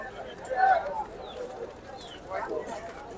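Pigeons coo softly at the busy winter pigeon market in Tongi, where Pakistani high flyers and local golla birds are sold. Low murmuring calls rise twice amid crowd voices and market chatter.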